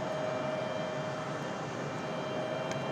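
A Delta Boeing 737-900 jet arriving at Raleigh-Durham airport gives off a steady, broad engine roar that holds at an even level throughout, with no voices.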